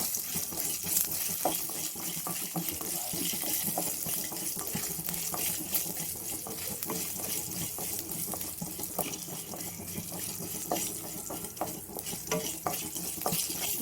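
Coriander seeds with dried Byadgi chillies and green chillies roast in a pan, a continuous sizzle under repeated scraping stir strokes, close and steady throughout.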